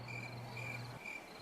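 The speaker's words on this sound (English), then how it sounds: "There is an amazing story about why the cricket chirps." A cricket chirps in a faint, steady high trill that pulses gently against quiet background noise.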